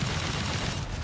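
Burst weapon firing in Company of Heroes 3, a dense, loud rattle of rapid shots packed tightly together over about a second with no pauses.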